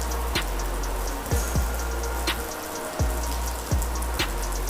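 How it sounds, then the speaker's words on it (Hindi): Heavy rain pours steadily outdoors, a dense continuous hiss broken by a few sharp drips or knocks, loud and close throughout without speech. "इस समय बारिश बहुत तेज हो रही है"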